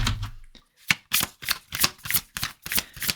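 An oracle card deck is shuffled close up in a rapid run of crisp riffling bursts, about seven quick flurries after a brief pause, with no voice over them.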